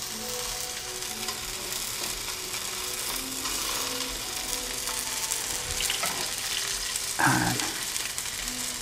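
Garlic and dill frying in a hot pan for a Persian dish, a steady close crackling sizzle throughout with light stirring scrapes and a brief louder clatter near the end, a single spoken word barely above it.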